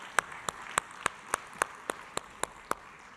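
Single, evenly paced hand claps ring out in a summit hall as a panel takes the stage at the World Governments Summit 2025, around eleven sharp claps in a steady rhythm with no voices.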